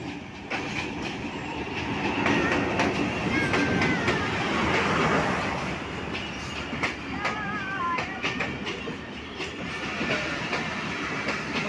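Passenger train hauled by locomotive 127 passes at high speed with a continuous loud rumble and rhythmic clickety-clack of wheels, with brief squealing metallic tones partway through.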